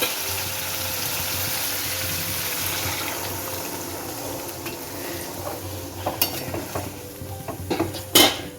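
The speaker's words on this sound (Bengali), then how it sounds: "এবার আমি এই যে গরম জলটা ঢেলে দেবো" Hot water goes into a pan of prawn curry (chingri kalia), a continuous close rushing hiss and bubbling that eases off, followed by a few clinks of a utensil against the pan.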